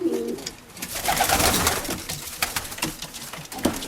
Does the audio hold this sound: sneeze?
no